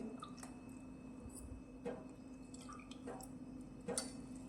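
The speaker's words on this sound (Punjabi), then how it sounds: "ਇਹਨੂੰ ਚੰਗੀ ਤਰ੍ਹਾਂ ਨਿਚੋੜ ਕੇ ਨਾ ਇਹਦੇ ਵਿੱਚ ਪਾਣੀ ਜਿਹੜਾ ਬਾਹਰ ਕੱਢ ਦਾਂਗੇ ਸਾਰਾ" Soaked soya chunks squeezed by hand give a few faint, wet squelches and drips at irregular moments over a quiet, steady background hum.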